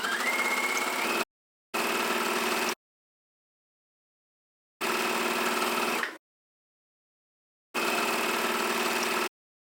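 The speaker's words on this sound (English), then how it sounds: "let's go ahead and sew down the back waistband only." Sewing machine stitching down the back waistband of a gathered skirt with an elastic back, running in four steady motor bursts of about one to one and a half seconds each, separated by silent pauses.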